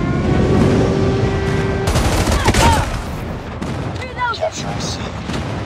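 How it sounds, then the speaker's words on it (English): Friendly airstrike in the Call of Duty Mobile shooter, a dense barrage of rumbling explosions and gunfire, loud and continuous at first, then easing into scattered blasts, with a voice announcing objective capture over the noise. "Friendly airstrike incoming."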